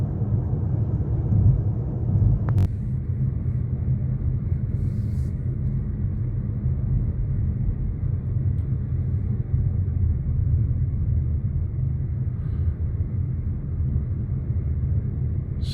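Low, steady rumble of a car driving along a road into Larinia in Portugal, a constant close engine and road drone heard from inside with no talk.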